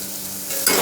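Coriander leaves and spices frying in hot oil, a steady close sizzle with stirring that grows louder and brighter in the final moments.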